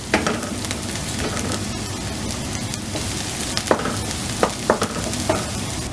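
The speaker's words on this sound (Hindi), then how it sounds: "बस लाइट सा फ्राई कीजिए।" Okra fries lightly in a little oil in a pan, a dense crackling sizzle throughout, with several sharp spatula taps and scrapes clustered toward the end, heard up close without speech.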